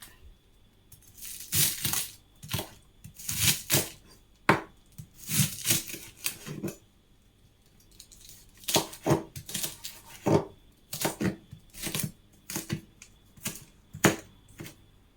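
A knife slices through half a red cabbage on a cutting board in quick bursts of crisp, crunchy chops, with short pauses between rapid runs of strokes, close and clear, no talking.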